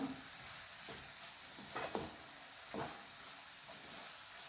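Grated carrot and egg fry being stirred in a pan, a low steady sizzle with a few scraping stirs of the spatula standing out, close and fairly quiet, no talking.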